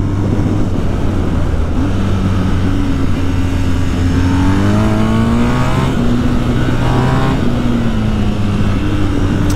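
A 2019 BMW R 1250 GS motorcycle engine accelerating through curves: a loud, continuous engine drone with rising pitch sweeps as the throttle opens and eases off, heard close throughout.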